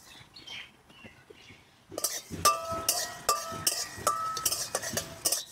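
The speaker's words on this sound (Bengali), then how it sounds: "1 চামচ গোটা জিরে, 1 চামচ গোটা ধনে, 1 চামচ মৌরি আর 2টো শুকনো লঙ্কা শুকনো খোলা একটু ভেজে নেব" Whole cumin, coriander seeds, fennel and dried chillies dry-roasted in an open pan, with rapid metallic clinks and scraping of a spoon stirring against the pan after a quiet start.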